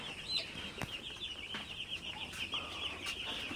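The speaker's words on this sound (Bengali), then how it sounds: "আজকে হচ্ছে আমার ব্রয়লার মুরগির বাচ্চার বয়স 3 দিন" Three-day-old broiler chicks cheep on a cold evening, a thin steady high chirping with some louder peaks, close by, with faint scattered clicks and no speech.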